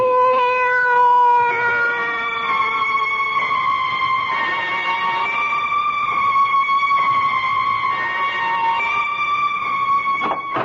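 A cat in a 1970s radio mystery drama meows in a long, drawn-out, wavering cry that rises and falls repeatedly, close and clear with no talking.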